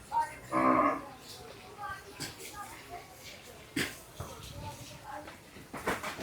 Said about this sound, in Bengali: ঈদ পরবর্তীতে নাসির ভাইয়ের আবার গরু মিরপুর 11 রিস্টক হয়েছে